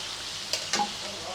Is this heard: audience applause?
no